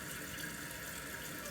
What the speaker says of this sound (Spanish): Aquí acabo de llenar el tanque.